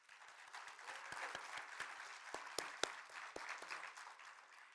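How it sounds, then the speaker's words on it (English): A small crowd claps steadily for several seconds, the applause fairly faint and distant, with a few sharper individual claps standing out. "Let's give a hand clap to our CABE board."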